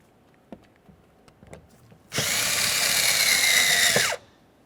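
A power driver fitted with a 7mm socket runs mounting screws into an interior door panel of a 2001-2005 Ford Explorer Sport Trac, a loud steady whir of about two seconds, preceded and followed by faint clicks and handling noises.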